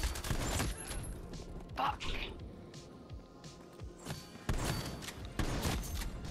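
Gunfire from a Black Ops Cold War match cracks out in a few loud bursts at the start and again near the end, separated by quieter game ambience.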